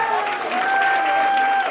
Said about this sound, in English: give these lads on stage a big round of applause